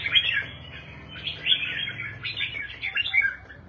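Captive pet songbirds chirp in quick, high bursts, several short twittering phrases close by, over a faint low hum.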